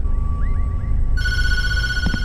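A telephone rings in the horror video game Tattletail, a loud, bright electronic ring that starts abruptly over a low ambient hum, heard alone.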